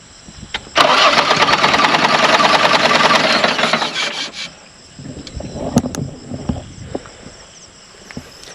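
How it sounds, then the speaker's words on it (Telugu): A motorcycle engine is cranked with its self-start button, giving a loud, steady starter whir of about four seconds that cuts off, followed by quieter knocks and handling sounds. "ఒకసారి కొట్టు సెల్ఫ్"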